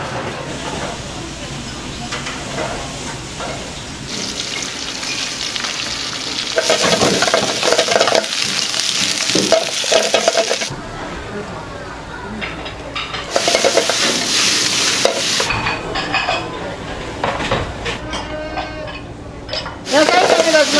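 Vegetables are stir-fried in a wok in a sauna canteen, loud hissing and sizzling bursts alternating with quieter stretches, with people talking nearby.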